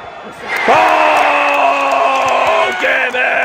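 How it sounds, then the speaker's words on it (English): A sports crowd screams and cheers for a basketball player's shot, a loud sustained roar with a strong rising wail from the start and a brief dip near the end, voices merging into one dense wall of noise. "Everybody's screaming."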